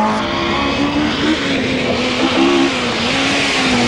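A Vauxhall HSR Chevette rally car on a 1980 British Open Rally Championship event in Ulster, its engine roaring loud and close with a steady high pitch that rises briefly mid-way, no voices.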